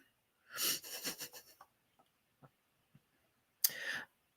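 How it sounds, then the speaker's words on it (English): Loud wheezy snorting breaths from a nearby dog, a few seconds of rasping snores, then scattered small clicks and another snuffling breath. "Do y'all hear my dog over there snoring?"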